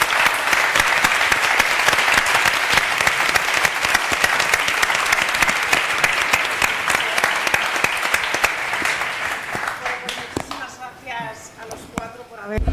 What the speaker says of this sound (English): I ask you a warm round of applause for our speakers.